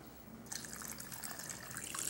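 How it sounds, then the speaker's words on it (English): Water pours into a pot over meat and rice for jambalaya, a steady close trickling and splashing that starts abruptly and continues alone. "I got to cover that with water."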